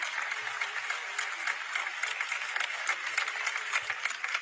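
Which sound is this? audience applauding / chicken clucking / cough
audience applauding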